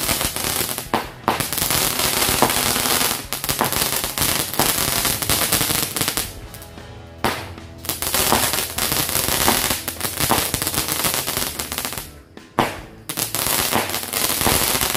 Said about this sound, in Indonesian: Oke, mantap sekali guys mercon kobranya.